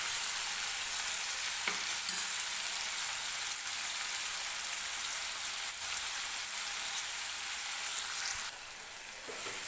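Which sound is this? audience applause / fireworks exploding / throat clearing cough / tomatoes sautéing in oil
tomatoes sautéing in oil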